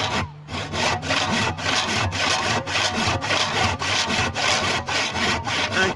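Wood being sawed by hand while building a straw wall, a close, steady series of about fourteen rhythmic rasping strokes back and forth with no talking.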